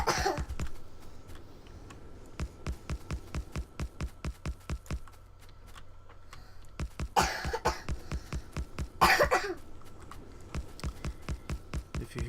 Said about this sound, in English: If you hear someone coughing right now, that's my youngest daughter